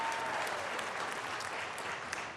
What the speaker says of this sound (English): You all can applaud for that now.